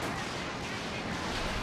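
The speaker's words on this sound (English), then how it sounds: "There's a Walking Stuka barrage." A Walking Stuka rocket barrage in Company of Heroes 2 lands as a dense, continuous wash of blasts and crackling artillery impacts, loud and unbroken throughout.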